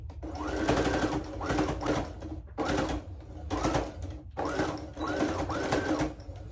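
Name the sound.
sewing machine backstitching to reinforce face mask elastic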